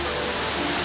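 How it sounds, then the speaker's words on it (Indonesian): Muara Jaya waterfall at the foot of Mount Ciremai in Majalengka, heard as a steady, dense roar of rushing water that fills the whole short moment without a break. "air terjun Muara Jaya yang lokasinya ada di kaki Gunung Ciremai di Kabupaten Majalengka"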